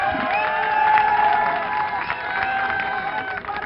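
An audience in Srinagar claps and cheers as guests arrive, a dense crowd roar with shouts and applause blending together, loud and sustained, with some voices calling out over it.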